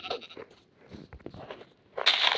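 A goat in a Minecraft-style video game bleats in short wavering cries, a few quick calls close together, then a louder bleat at the end, with no talk over it.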